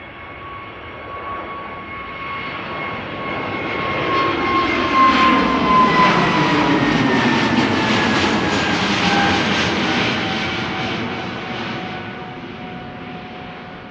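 A jet airliner departs Amsterdam Schiphol for London Luton, its engine roar swelling as it passes overhead with a whining tone that slides downward, then slowly fading away.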